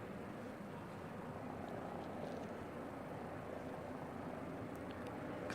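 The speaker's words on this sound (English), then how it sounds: "Can still hear the helicopter." Helicopter flying near Christchurch Airport, a steady distant engine and rotor drone that holds at moderate loudness throughout, with a few faint clicks on top.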